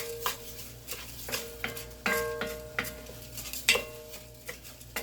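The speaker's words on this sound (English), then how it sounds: "we're just going to stir that in" Rice is stirred into liquid in a pot, with a spoon scraping and clinking against the pot in repeated strokes about once a second. Each stroke is close and fairly loud over a faint background hum.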